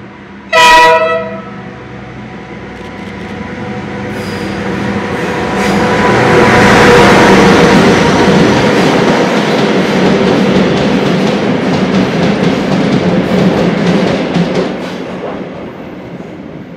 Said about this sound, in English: This was DL-9014 hauling four EF-class electric locomotives down to Wellington